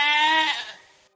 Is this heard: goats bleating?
yes